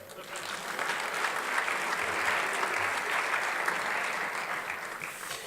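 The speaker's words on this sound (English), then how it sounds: "please give our leaders a round of applause" An audience at Santa Monica's 2019 State of the City event gives city leaders a sustained round of applause, a full, even wash of clapping that swells and holds for several seconds with some crowd murmur underneath.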